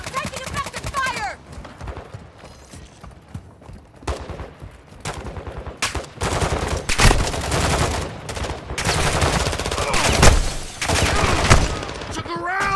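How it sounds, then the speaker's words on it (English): Rapid bursts of automatic gunfire and single shots in Call of Duty DMZ, loud and close, coming in clustered volleys with a radio-style voice speaking over parts of it. "Taking effective fire!"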